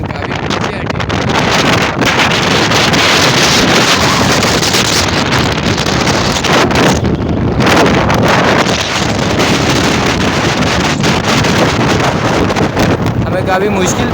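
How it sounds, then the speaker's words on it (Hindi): Strong, constant wind on a rooftop 205 feet up in Karachi buffets the microphone in a loud, roaring rush with gusty fluctuations, filling the whole stretch without pause. "इतनी तेज़ हवा है, काफ़ी मुश्किल हो रही है हमें"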